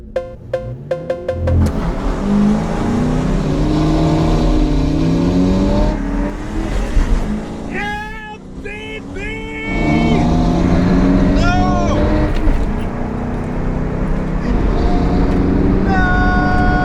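A Ford Mustang engine roars and revs hard under load while racing a Mazda MX-5 Miata on a rocky hill course, with rising and falling gear pulls, a brief lull, then sustained loud revving nearby.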